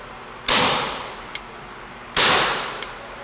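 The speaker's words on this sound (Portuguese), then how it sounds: "Inseriu já o gás CO2. Engatilhou. Só disparar." A Colt Special Combat 4.5mm CO2 air pistol fires two sharp cracks about 1.7 seconds apart, each followed by a brief hiss and a small mechanical click, close and loud.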